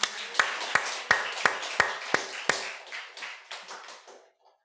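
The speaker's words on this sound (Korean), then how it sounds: "고마우신 사랑의 하나님께 박수 한번 올립시다." A church congregation gives a round of clapping during a sermon: about a dozen sharp, evenly spaced group claps in a steady beat, loud at first and then growing softer and looser until they fade out.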